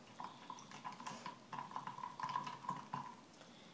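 A spoon stirs brown sugar into a turmeric ginger bug ferment in a jar, making quiet, quick clinks and scrapes in a steady rhythm, close up and soft, with no talking.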